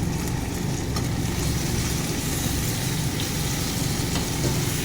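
Mutton curry braising in a pan gives off a steady, close, dense sizzle with a low rumbling undertone that holds evenly throughout, and no voices are heard.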